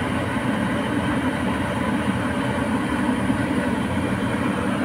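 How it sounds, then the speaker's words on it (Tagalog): Kitchen exhaust fan running steadily in a home kitchen after sautéing sardines, a constant broadband whir and hum at even loudness throughout, with no talking. "Binuksan natin ang exhaust fan para lumabas ang amoy."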